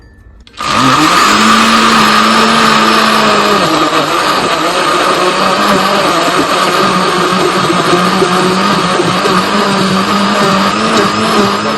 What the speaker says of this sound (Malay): so now kita blender dulu